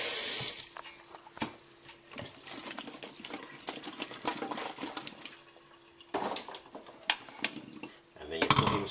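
Yams are rinsed under a running kitchen tap, water splashing steadily into a sink with brief pauses and a faint clink of pots and utensils.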